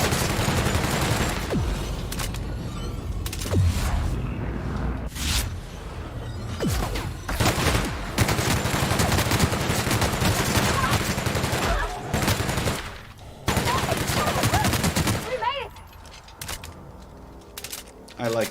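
Gunfire from a gun in The Outer Worlds, repeated bursts of sharp shots and rapid volleys in clusters across the clip, loud and close, with gaps between bursts.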